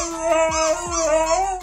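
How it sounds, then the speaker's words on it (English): A husky howls in a drawn-out, wavering cry with rising and falling pitch, close and loud, with a couple of short whimpering breaks. "I always forget that huskies are insanely vocal dogs."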